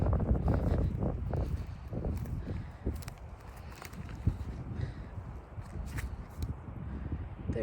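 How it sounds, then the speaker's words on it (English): A steady outdoor wind the morning after a wind storm, roughing the microphone with a low continuous rumble. Scattered light taps and rustles sit on top of it, with no voices. "There's a steady wind"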